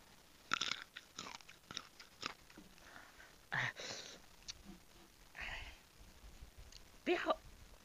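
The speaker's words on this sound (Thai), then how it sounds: "อยากฟังเสียงอะไรฟังเสียงผมเคี้ยวเนี่ยนะ" Sour mango is chewed close to the microphone in an eating ASMR session, with repeated crisp crunches and wet bites spread over several seconds and a little breathing between them.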